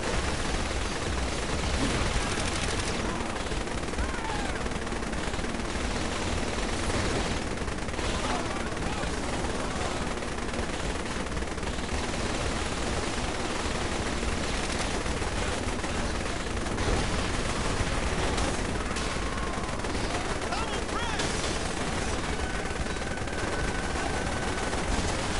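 A vehicle turret cannon in Saints Row The Third Remastered fires continuously in rapid bursts, loud and dense throughout, with gunfire and explosions blending into a constant barrage.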